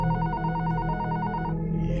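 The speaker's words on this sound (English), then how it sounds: "the phone to our room rang" A hotel room telephone rings steadily and fairly loud, with a sustained warbling electronic bell tone that fades out near the end, with no talk over it.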